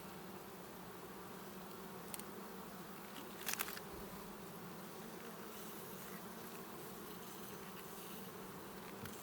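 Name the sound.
honey bees buzzing around open hive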